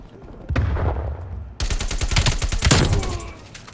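Rapid automatic AK rifle fire in a shooting video game, a short burst followed by a longer dense stream of loud, sharp cracks, close and with no talk over it.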